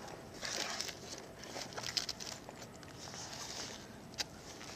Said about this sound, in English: put the rain jacket over the top